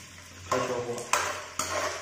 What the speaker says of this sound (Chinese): 一定要小火慢慢炸，这样炸出来的花生才好吃